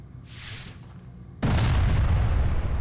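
A cannon firing cannonballs in the video game Legend of Grimrock 2 lets out a single sudden loud boom. It cuts in over a quieter hiss and rings on as a dense, rumbling roar to the end, with no talk.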